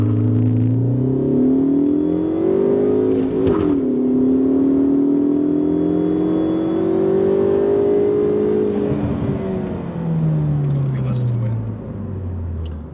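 A Ford Focus ST 250 Mk3 launches and accelerates hard with ESP switched off, its engine droning loudly and steadily as the revs climb, dip and climb again, with the car's cabin rumble throughout.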